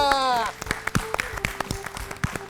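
A voice opens, then a small group claps for a correct answer on a children's fun-learning show, giving scattered, uneven claps that are close and fairly loud.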